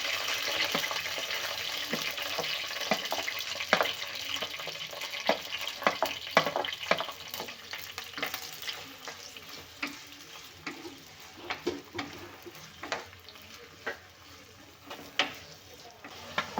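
Sliced onion frying in hot oil with whole spices (shahi jeera, black pepper, cloves, cinnamon) in a clay pot: steady close sizzle with scattered crackles and pops throughout, no talk.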